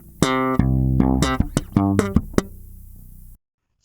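One bar of a groove on electric bass, with thumb slaps and finger plucks on G and its octave, plus two percussive ghost notes, in a short funky burst before silence.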